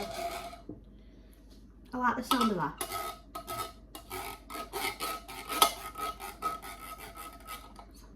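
A metal spoon scrapes rice from inside a can in quick, rasping strokes at close range, with a person briefly talking.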